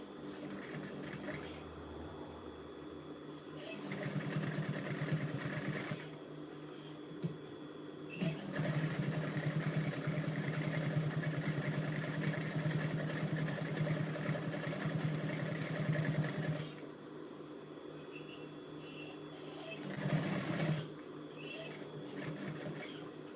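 A sewing machine stitching fabric for a drawstring gift box, running in steady mechanical whirring bursts of several seconds with short quiet pauses between, close and even in tone.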